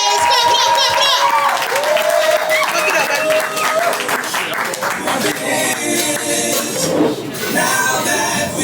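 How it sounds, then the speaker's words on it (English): A poetry slam audience claps and cheers loudly and continuously for a poet, the crowd noise dense and sustained, mixed with tonal music or voices. "clap it up for your first poet in the first round"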